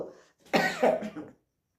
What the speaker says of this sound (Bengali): এক এক সময় মনে হচ্ছে কাশি চলে গেছে যেই কথা বলছি কাশি বেড়ে যাচ্ছে